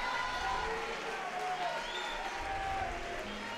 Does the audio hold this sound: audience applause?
yes